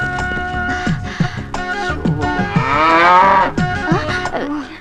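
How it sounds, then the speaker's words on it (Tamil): Buffalo moo repeatedly nearby, several loud, drawn-out lowing calls in quick succession with rising and falling pitch, filling the whole stretch without speech. "இது மாடு இல்லைங்க எருமைங்க"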